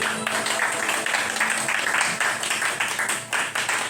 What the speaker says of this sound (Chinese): 好，请给自己掌声鼓励，谢谢。